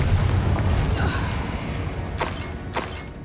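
A Confringo blasting spell detonates in Hogwarts Legacy, a deep booming blast with low rumble that stays loud throughout, followed by two sharper bursts near the end.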